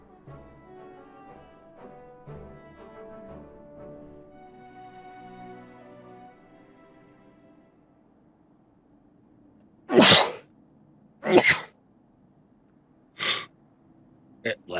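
A character in a Final Fantasy XIV cutscene sneezes four times in quick succession, sharp loud bursts that follow a stretch of soft, fading background music.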